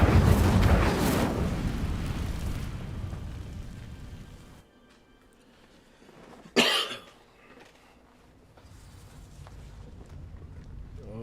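Incendio, a fire spell from Hogwarts Legacy, is cast on dry vines: a dense rushing roar fades into near silence before a sudden sharp burst of flame flares loudly and then dies back to a low hiss.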